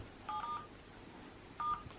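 Two short telephone keypad tones sound about a second apart, quiet and thin against a faint room hum.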